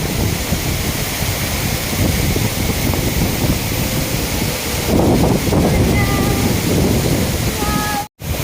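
Badhkhaman waterfall during the monsoon, a steady loud roar of falling water and spray filling the whole span, with a brief dropout near the end.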